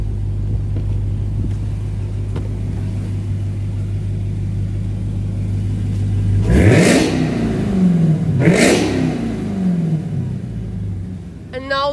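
A Dodge Hellcat with its exhaust valves closed idles with a deep rumble, then revs twice in quick rising surges that fall back to idle, loud and near.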